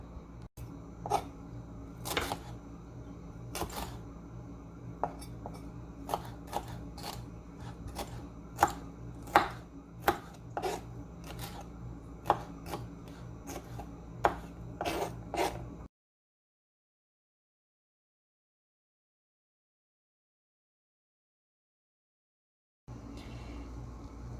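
A knife chops hot chili peppers on a board with quick, irregular, sharp close knocks for about fifteen seconds. A pause of silence follows, then faint handling noise resumes.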